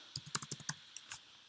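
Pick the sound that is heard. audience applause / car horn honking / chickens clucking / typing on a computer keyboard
typing on a computer keyboard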